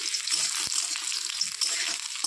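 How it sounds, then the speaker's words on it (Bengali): Garlic cloves dropped into hot oil with fried chilies, a bright steady sizzle close up with a small clink, and no talking. "লঙ্কা ভাজা হয়ে গেছে, দিয়ে দিচ্ছি কয়েকটা রসুন।"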